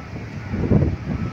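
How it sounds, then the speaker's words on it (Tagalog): Strong typhoon wind buffets the microphone at a Manila reclamation site, a steady low rumbling roar that gusts louder midway through. "Lakas, ano mga kababayan yung hangin dito, lakas."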